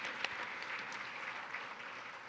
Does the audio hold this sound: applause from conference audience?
yes